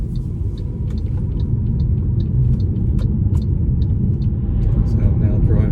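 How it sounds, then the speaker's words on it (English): An MG ZS EV electric car drives through Ashdown Forest on English country roads, heard from inside the cabin as a loud, steady low road and tyre rumble throughout. "So I'm now driving through Ashdown Forest, bottom end, and go up through all the way up to the top."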